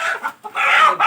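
A chicken brought out for a Konkan village rakhan ritual clucks and squawks loudly at close range in a quick series of agitated calls.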